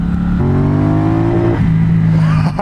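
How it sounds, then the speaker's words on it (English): A cruiser motorcycle revs close up on a cold winter ride, its engine note climbing and falling with a whining, supercharger-like tone riding over the loud, steady drone. "it's always got a wind to it like a supercharger"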